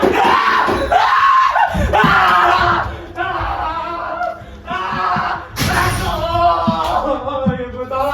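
A person screams and yells loudly and continuously, with other voices and thumps mixed in, during a tense night-time ghost-hunting challenge.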